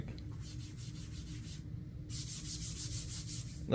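Computer mouse sliding back and forth across a desk mat, producing a soft, continuous scraping rub with a brief pause midway, quiet and close with no voices.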